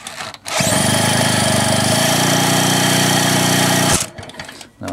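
A Mobylette moped engine is revved hard up close, a loud, buzzing two-stroke whine held steady for about three and a half seconds before it drops back off.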